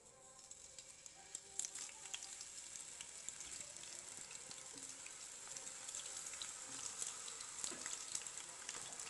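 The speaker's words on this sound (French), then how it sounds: "dans une poêle, sur feu moyen, j'ajoute juste un peu de l'huile végétale et je vais les faire frire" Thin potato slices fry in a little vegetable oil in a pan over medium heat, giving a steady, faint crackling sizzle with scattered small pops and no voices.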